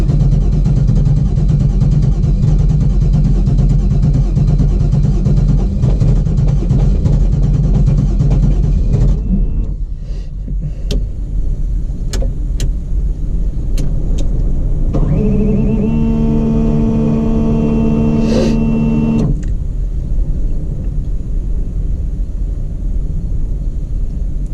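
A car engine that has had fuel pressure trouble runs loudly and steadily at first, then goes quiet except for faint clicks, then turns over with a rising harmonic whine before settling.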